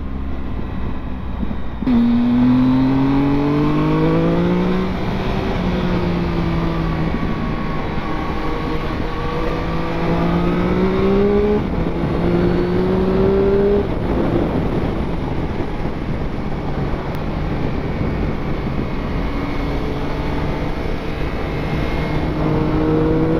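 A Triumph Speed Triple 1050 motorcycle's engine revs repeatedly, its pitch sweeping up and falling back through several throttle blips over steady road and wind rumble, loud and close throughout.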